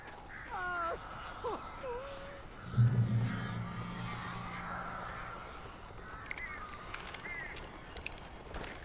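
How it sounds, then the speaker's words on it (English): Bird calls from the Alan Wake video game: several harsh crow-like caws and squawks in the opening seconds, followed by a low droning tone and scattered chirps over steady ambient noise. "These birds are weird."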